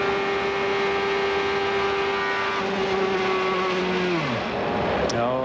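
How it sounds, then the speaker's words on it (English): A CART race car engine at about 230 mph screams with a steady high-pitched whine that suddenly drops and sputters as it blows, loud and continuous throughout. "The engine's getting tight. You can hear it just before you see the puff of smoke"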